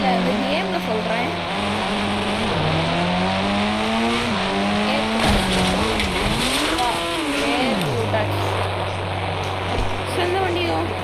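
Car engine in the Indian Bike Driving 3D video game revs and strains while trying to climb a ramp, a steady loud drone whose pitch wavers, dips and climbs before settling into a constant note, with someone talking throughout.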